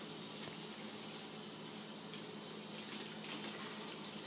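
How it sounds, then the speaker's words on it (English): Steady hiss of hot water pouring from a tap into a paper bag, continuous and fairly close. "fill it up with the hottest water you can get"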